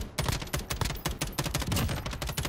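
Rapid bursts of automatic gunfire from Modern Warfare game combat, dense overlapping shots rattling continuously and loudly throughout with no voices.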